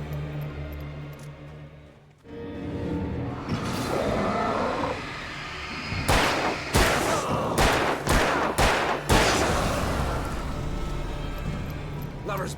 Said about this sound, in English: you hit 2 out of 6 shots